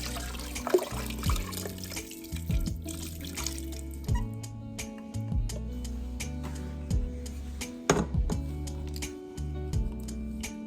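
Chicken broth is poured into a crockpot with a sustained gurgling, splashing flow, broken by a few soft clunks and pauses, close and fairly quiet, with no talking.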